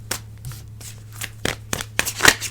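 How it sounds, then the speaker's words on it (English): A deck of astrology cards is shuffled by hand up close, giving a string of quick riffling, flapping bursts and soft taps over a low steady hum. "Let me pull some astrological cards."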